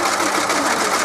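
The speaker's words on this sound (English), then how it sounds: "using the machine to make the handle of her bag" A sewing machine stitches a bag handle in a steady, fast mechanical whir, close and continuous for a brief moment with no pauses.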